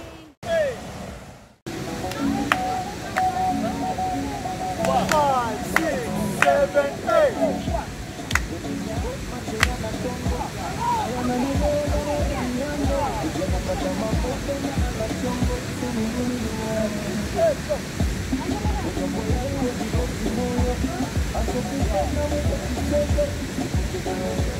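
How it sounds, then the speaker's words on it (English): Steady rushing water of a river near a waterfall on Mount Kenya fills the scene as a broad, continuous roar, with scattered brief knocks and rustles over it. "listening to the water flowing in the river"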